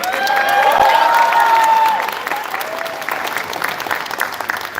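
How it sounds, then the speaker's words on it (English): A pageant audience claps and cheers loudly at the start of an evening show, with a whistle-like tone rising early on before the applause thins slightly and carries on. "What's this clapping?"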